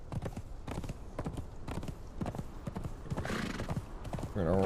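Horse hooves clip-clop steadily in a video game, a run of close, even footfalls with a whinny among them and a louder game sound rising at the very end.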